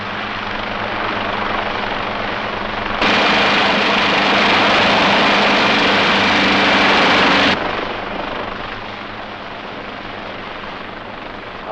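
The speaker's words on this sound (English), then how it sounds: "Marty, what's this helicopter doing out there?" A helicopter's steady rotor drone fills the scene, swelling louder for a few seconds as it passes close, then settling back to a constant distant thrum.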